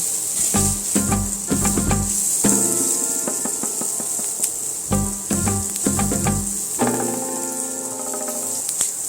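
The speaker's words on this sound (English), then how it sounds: "let's put that in our pan and toast our rice some" Basmati rice toasts in a paella pan for smoky shrimp paella, a constant high sizzle running throughout, with no talk and other sounds intermittently rising over it.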